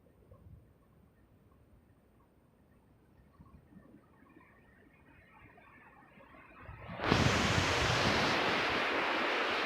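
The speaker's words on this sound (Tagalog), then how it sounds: "Ayun po ang San Diego Beach." Ocean waves at San Diego Beach. Faint, quiet wind and distant surf build slowly, then a sudden loud, close rush of wind noise and breaking water takes over for the last few seconds.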